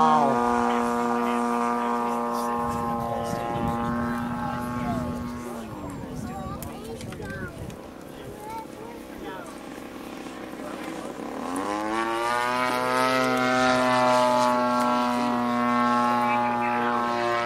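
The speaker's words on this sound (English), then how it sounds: "So he's gonna fly my GoPro on his drone." An RC drone carrying a GoPro flies nearby, its propellers giving off a steady, loud harmonic buzz whose pitch dips and then climbs again as it manoeuvres, with people talking over it.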